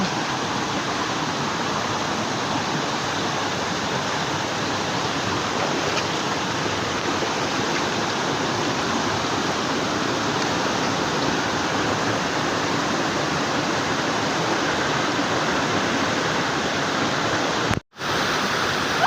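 Bataraw Falls pours in a steady, loud broadband rush of falling water, close and unbroken for the whole stretch apart from a brief dropout near the end.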